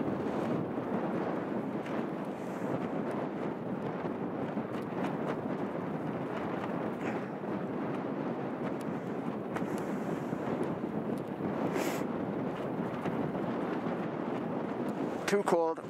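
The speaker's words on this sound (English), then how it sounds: "It's getting windy now." Wind blows steadily across a farmland hillside in the Cheviot Hills at night, a continuous rough rumble buffeting the microphone with occasional stronger gusts, heard with no talk.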